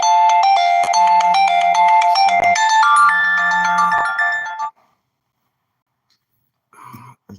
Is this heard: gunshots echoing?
no